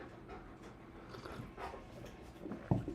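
A dog pants quietly and steadily with faint whimpering, close but soft, under a low room hum. A single louder thump comes near the end.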